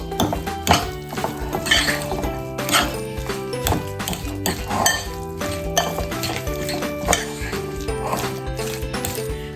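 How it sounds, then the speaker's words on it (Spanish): Ingredients for Sicilian stuffed potatoes are stirred together with spicy longaniza sausage in a bowl, giving steady clinks and scrapes of a utensil against the bowl under continuous background music. "Mezclamos bien todos los ingredientes."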